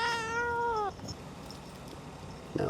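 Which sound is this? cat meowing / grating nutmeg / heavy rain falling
cat meowing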